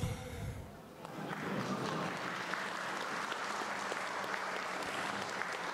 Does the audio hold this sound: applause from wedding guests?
yes